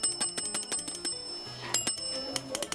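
Small metal bells of an antique Ericsson telephone ring in rapid, clattering bursts, bright and close, with a brief pause before the ringing resumes.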